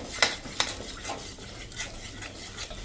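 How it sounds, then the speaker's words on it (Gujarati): Flour being stirred and roasted in a pan over a slow to medium flame for gundar sukhdi, soft scraping strokes with a few sharp clinks of the spoon against the pan, quiet and close. "તો આ રીતે જો આપણે કન્ટિન્યુ ચલાવતા જાશું અને લોટને શેકી લેશું સ્લો ટુ મીડિયમ ફ્લેમ ઉપર"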